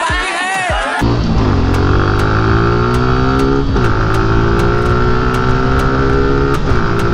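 A Suzuki Gixxer single-cylinder motorcycle engine revs hard and holds high rpm, its steady loud drone briefly dipping and climbing again, with a quick rev-up at the start and no voices.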